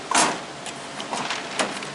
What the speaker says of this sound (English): My doors, see how good my doors are working.